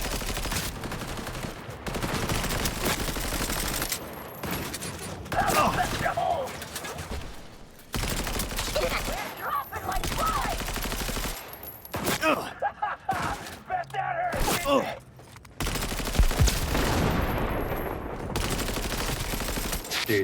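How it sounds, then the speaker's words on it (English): Rapid automatic gunfire from a fast-firing gun in Cyberpunk 2077 rattles in sustained bursts with short pauses, loud and close, over game effects, with a voice talking at times. "Oh, those bullets go everywhere."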